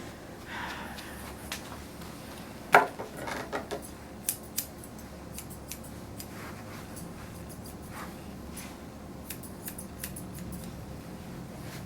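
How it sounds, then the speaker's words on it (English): Blending shears snipping through a terrier's fur during a full groom, a few quiet metallic cuts with one sharper snip amid low room noise. "You can use your blending shears if you need to."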